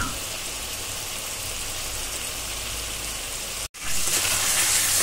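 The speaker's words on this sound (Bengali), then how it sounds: "লবণ হলুদ দিয়ে ভালো করে কষিয়ে নিচ্ছি মশলাটাকে" Spice paste seasoned with salt and turmeric sizzles loudly in a pan for a curry, a dense, steady hiss and crackle. The frying cuts out for a moment and then comes back brighter.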